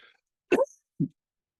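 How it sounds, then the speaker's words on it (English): A single short cough, close and fairly loud, followed by a softer, lower throaty sound about half a second later, then silence. "I'm going to take a moment to mute myself and cough off microphone."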